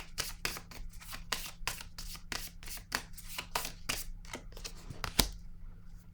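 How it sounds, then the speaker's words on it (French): Tarot-style cards being shuffled and handled from a deck, a steady run of quick papery riffles and flicks with one sharper snap near the end, close and fairly quiet. "Je vais piger une carte ici sur le monde."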